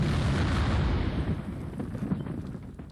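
A huge, rumbling explosion roar from the video game Root Double fills the clip, loud and continuous, with dense low crackling that slowly thins out toward the end.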